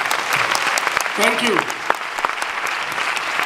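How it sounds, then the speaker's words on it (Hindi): Audience applause fills a lecture hall at a motivational success seminar, a steady dense clapping that runs the whole time while someone briefly says thanks over it. "तिवारी जी के लिए तालियां होनी चाहिए जोरदार।"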